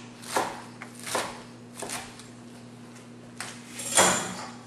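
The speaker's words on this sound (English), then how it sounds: "what we're going to do is just going to roughly chop our spinach" A knife roughly chops fresh spinach on a board in a home kitchen, producing five soft, scattered thuds over a low steady hum, close by and without speech.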